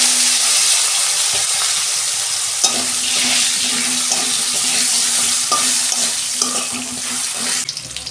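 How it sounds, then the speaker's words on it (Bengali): Potato pieces frying in hot oil left from browning fish heads, a steady bright sizzle with occasional stirring scrapes, close and continuous. "ওই তেলে আলুটা ভেজে নিচ্ছি।"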